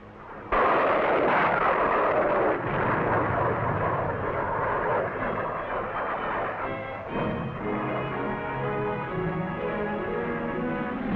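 US Navy carrier aircraft fly low over a beach in 1962 with a loud, sustained roar that swells suddenly and then rumbles on as the jets pass, mixed with heavy booming.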